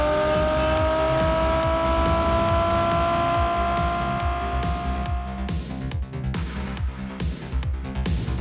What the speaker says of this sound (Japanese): この車乗ってみてください。 ランボルギーニカウンタック。